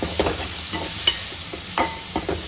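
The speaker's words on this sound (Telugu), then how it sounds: "లైట్గా ఉప్పు, లైట్గా పసుపు వేసి కొంచెం అది బ్రౌనిష్ వచ్చే వరకు ఉల్లిగడ్డలు వేపుకోవాలి" Sliced onions frying in a pan with a little salt and turmeric, a close, steady sizzle broken by several scraping stirs of a spoon.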